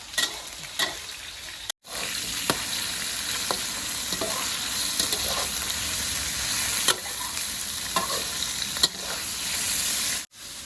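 Snakehead fish stir-fried in a wok with garlic, ginger and red chili gives a steady, close sizzle broken by repeated spatula scrapes and clicks, with two brief pauses in the frying.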